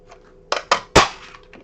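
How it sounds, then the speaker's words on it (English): Three sharp crunching clicks from a big craft punch cutting paper shapes, quick and close, in an uneven rhythm, followed by a fainter fourth press. "So I will punch these out with our big punch."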